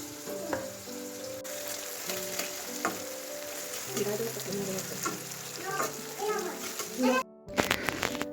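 Chicken pieces fry and sizzle in a kadai while being stirred with scraping spoon strokes, steady crackle under intermittent talk and children's voices in the background.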